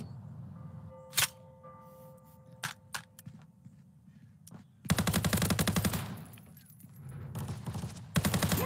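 Automatic Glock fire with a switch in the VR shooter Contractors VR: a few scattered single shots, then long rapid bursts of loud, close gunfire in sustained rattling volleys.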